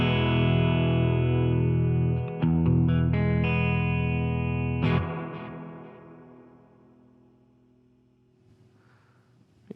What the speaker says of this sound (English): So we'll turn on the space delay first.